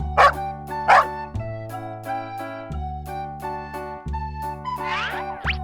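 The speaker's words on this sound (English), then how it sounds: "It's a dog." A dog barks twice in quick succession early on, then barks again later, over a bouncy children's music backing.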